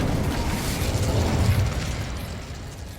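A single booming fire-spell blast in Hogwarts Legacy, a loud low burst that swells and then fades into a rumbling tail, with no talking.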